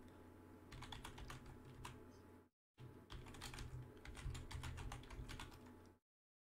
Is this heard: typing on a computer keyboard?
yes